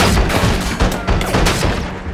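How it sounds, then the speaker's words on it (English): Offstage gunshots used as a sound effect in a TV drama mix: a dense, loud burst of rapid booming shots packed together over about two seconds. "Offstage gunshots."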